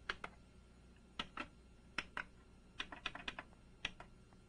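Light plastic key presses on a Kurzweil K2600 synthesizer keypad as a value is typed in and enter is pressed; a scattered series of soft, close clicks over a quiet hum.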